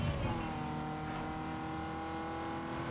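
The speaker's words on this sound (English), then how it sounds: "Use the nitrous coming out of there." Race car engine in Need for Speed Underground 2 revving hard under nitrous boost, with a steady high-pitched whine that holds loud and close the whole time.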